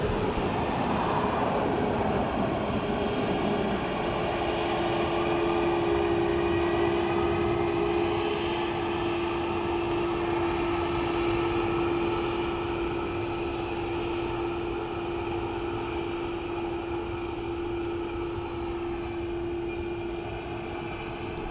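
Airbus A320neo at Dublin Airport, a steady distant jet engine roar with a sustained whine, fairly loud and continuous throughout, easing off slightly toward the end with no talking.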